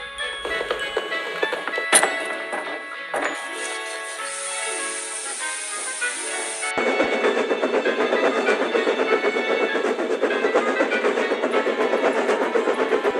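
A steam locomotive rolling along with a steady rhythmic clatter and mechanical hum, preceded by a sharp hiss and clanks as it starts moving.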